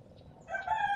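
A rooster crows once, close and fairly loud, rising out of a low background murmur partway through and holding through the end.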